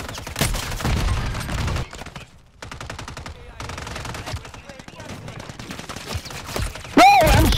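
Rapid automatic gunfire in the video game Call of Duty, dense bursts of shots nearly continuous for several seconds, loud and close, with players talking over it.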